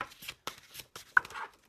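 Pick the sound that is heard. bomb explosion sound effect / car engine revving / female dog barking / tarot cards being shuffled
tarot cards being shuffled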